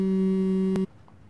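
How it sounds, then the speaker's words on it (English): A phone's steady electronic tone sounds loud and close, then cuts off abruptly partway through, leaving faint room noise. "Babe, your phone is ringing, oh."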